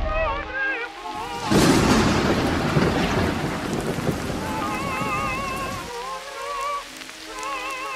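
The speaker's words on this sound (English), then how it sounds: "Good sound design to hear the rain before we see it." Steady rain with rolling thunder in a music video, starting soft and then swelling into a loud, sustained downpour and rumble over a few seconds before easing, with sung or musical tones running underneath.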